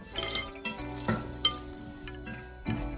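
Potato being mashed soft for a dried fish bharta: quiet, irregular scraping, tapping and clinking of a utensil against a pan or bowl, with a few sharper knocks spaced across the moment.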